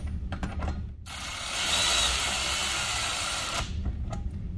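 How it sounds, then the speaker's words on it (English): Mud flap bolts on a 2017+ Ford F-250/350 Super Duty are tightened with a 4mm Allen key, giving a steady, close mechanical whirring and grinding that runs for about two and a half seconds between quieter clicks. "Now we can take our 4mm Allen key"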